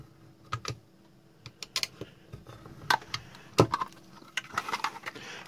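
Prying and cutting at the seal of a car tail light housing, heard as irregular sharp clicks, snaps and scraping taps, close and sporadic with no talk.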